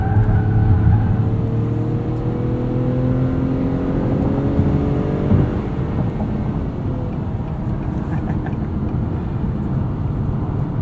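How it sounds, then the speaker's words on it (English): A 2021 Acura TLX A-Spec SH-AWD with a 2.0-liter turbo four accelerates, its loud, steady engine drone rising in pitch through the revs, heard from inside the cabin without talk. "The mid-range is a lot meatier in this 2-liter turbo"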